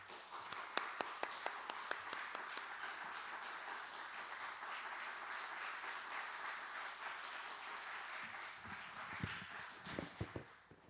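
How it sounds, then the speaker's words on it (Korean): A church congregation applauds to welcome a pastor to the pulpit, sharp early claps swelling into a sustained roomy patter of many hands, then thinning to a few scattered louder claps near the end. "우리 박수로 한번 환영하겠습니다"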